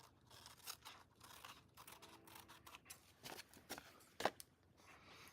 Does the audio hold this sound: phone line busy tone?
no